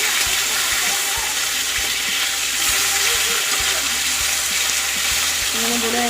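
A fish curry (jhol) simmers and fries in a pan, giving a dense, constant sizzle and bubbling with occasional soft knocks and stirring, close and steady throughout.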